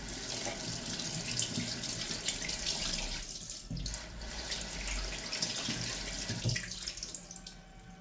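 Tap water running into a sink while a papaya is washed, a steady splashing stream with brief changes in flow as the fruit moves under it, close and continuous with no talking.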